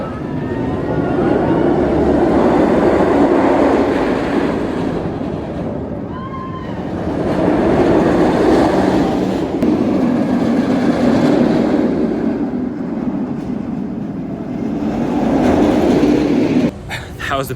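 Roller coaster trains at Busch Gardens Tampa roar past in long whooshing swells that rise and fade several times, loud and rushing, with faint crowd noise beneath.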